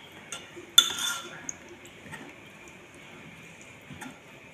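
Metal utensil clinks against a pot of kimchi soup with chicken bones while stirring, a sharp clatter near the start followed by a few lighter, sparse taps over quiet background.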